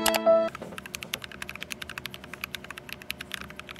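Rapid, steady keystrokes on a $300 custom mechanical keyboard with tactile switches and stabilized keys, each a crisp clack in a close, quiet room, after a brief tonal chime at the start.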